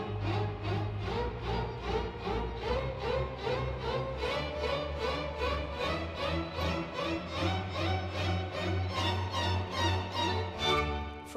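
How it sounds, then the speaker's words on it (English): Orchestral strings play repeated rising figures in a steady pulse, with sustained low notes underneath, moderately quiet and continuous without any talking. "Let's hear the strings on their own,"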